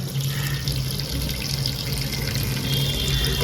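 Tap water runs steadily into a sink at home, a constant even rush with no breaks or talk throughout.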